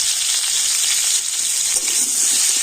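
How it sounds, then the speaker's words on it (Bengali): Potatoes fry in hot oil with salt and turmeric, giving a steady, close, even sizzle with a soft, dense hiss that holds through the whole stretch without a voice. "আর হলুদ আর লবণ দিয়ে আলুটা কিন্তু আমি লাল লাল করে ভেজে নেবো"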